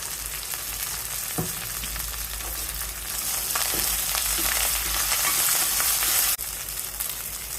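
Ginger garlic paste sizzles and fries steadily in hot oil with mint and coriander leaves, a continuous close crackle with a few soft stirring knocks and a short bump near the end.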